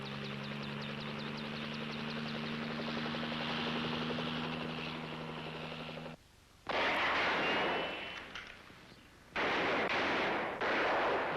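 Heavy crossfire volley in a kidnapping standoff with a police helicopter overhead: a steady droning rotor hum gives way to loud bursts of gunfire and blasts, several sharp, dense volleys separated by short gaps.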